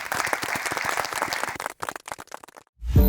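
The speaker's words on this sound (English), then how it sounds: "Please give them a round of applause." Conference audience applause in New York, a dense burst of many hands clapping that thins into scattered claps before fading out, heard fairly close.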